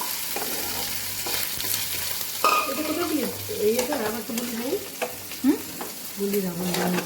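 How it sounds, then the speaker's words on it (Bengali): Prawns fry and sizzle in a pan while being stirred, with a steady hiss and occasional scraping close by. "যখন চিংড়ি মাছটা এদিকে ভালো করে ভাজা হয়ে গেল"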